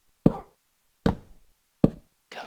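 Blocks placed one at a time in Minecraft while building a home, four short, dull knocks spaced about three-quarters of a second apart, close and clear, with no talk.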